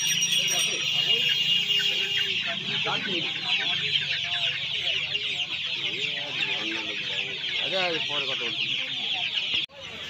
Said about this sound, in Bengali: খুব সুন্দর সুন্দর মুরগি আছে, সব রকম পেয়ে যাবেন।